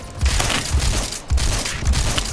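Shotgun shots ring out in the video game Phantom Forces, several loud booming blasts a fraction of a second apart over dense gunfire from the match.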